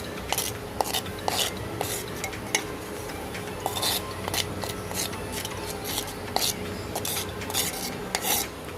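A spoon scrapes and taps inside a clay pot, smearing whisked yogurt over the walls while making mishti doi. Brief clinks and scraping strokes repeat irregularly at close range, with no talk.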